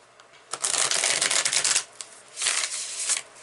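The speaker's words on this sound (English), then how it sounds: "I shouldn't be shuffling, but I am." Tarot cards being shuffled up close in two quick bursts of riffling and flicking, with a short pause between them, crisp and fairly loud, with no speech.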